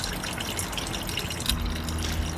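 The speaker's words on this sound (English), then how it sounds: "this is a bamboo water fountain providing a very soothing sound as the water enters the stone basin" A bamboo water spout trickles into a stone basin in a Japanese-style garden, giving a steady soft splashing wash at low volume with no voices.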